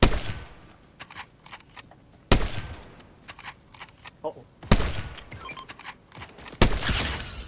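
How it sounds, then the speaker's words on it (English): Scattered game gunshots crack at intervals, several sharp loud reports among quieter distant pops, with brief talk mixed in. "I hear gunfire on this side."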